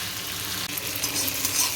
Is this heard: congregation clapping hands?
no